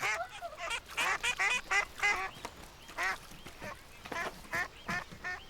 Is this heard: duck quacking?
yes